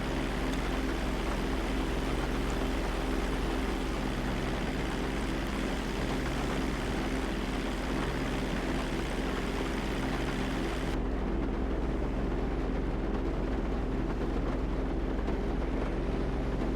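An airplane in the GTA 5 video game flies through the gusting winds of a Category 4 hurricane, a loud, continuous roar of engine drone and rushing wind that holds steady throughout with no talk.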